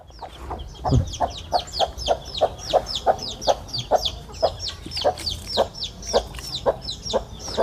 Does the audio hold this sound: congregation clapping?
no